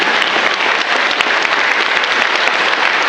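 Audience applause at the closing ceremony of a conference day in an auditorium, a dense, loud, steady wash of many hands clapping for the whole stretch with no voices over it.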